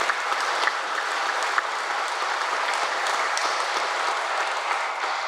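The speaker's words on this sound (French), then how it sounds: "je pense que ça vaut une bonne main d'applaudissements pour vous encourager" A church congregation at Sunday Mass claps for the volunteers, a full, steady round of applause lasting several seconds with no talk over it.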